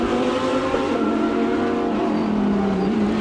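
Lamborghini and McLaren race cars tearing downhill at full speed on a circuit, a loud, steady high-revving engine roar sustained throughout with no speech.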